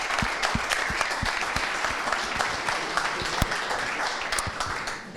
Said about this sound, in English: So give a nice random applause for the first speaker, Louis.